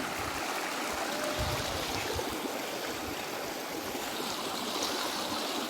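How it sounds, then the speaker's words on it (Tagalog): A strong river current flowing, a dense continuous rushing and gurgling of water heard close and steady, with no voices. "Medyo malakas yung daloy ng current ha. Malakas yung agos."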